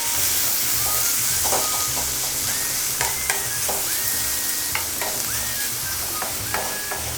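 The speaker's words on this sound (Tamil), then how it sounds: "நல்லா இது பொரிஞ்சு வந்தோடனே வெங்காயம் போட்டுருவோம்." Onions tipped into hot oil with whole spices for pepper chicken, a steady bright sizzle and hiss with occasional spoon-stirring clatter and pops, close and continuous with no talking.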